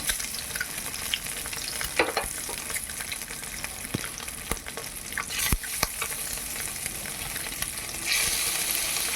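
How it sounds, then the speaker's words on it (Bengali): Halved boiled eggs, rubbed with turmeric, salt and Kashmiri chili powder, fry in hot oil for egg pepper fry, giving a close, dense, steady sizzle with scattered stirring clicks and sharp pops, no voices. "এখন ডিমগুলোকে আমি লাল লাল করে ভেজে নেব"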